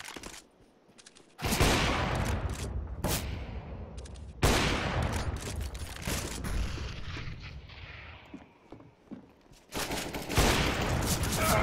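Rapid bursts of gunfire in Counter-Strike: Global Offensive, loud volleys of shots separated by short pauses, with echoing tails and no talking over them.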